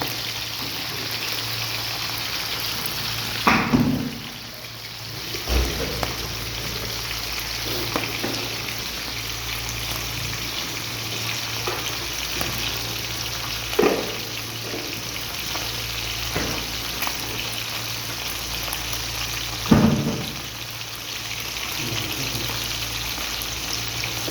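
Fish, about two kilograms, frying in hot oil, giving a steady close sizzle with a few louder crackles and pops spaced through it; no one speaks.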